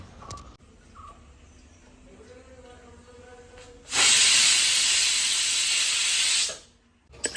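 A pressure cooker lets off steam in one loud, near hiss lasting about two and a half seconds, after quiet kitchen background and a few faint knocks, then cuts off abruptly.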